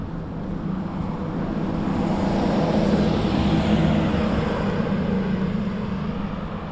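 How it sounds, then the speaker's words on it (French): Trucks and cars passing on a road near Lake Eugi, a steady broad traffic rumble that swells and fades gently, fairly near, with no talking. "Plus de camions que de bagnoles."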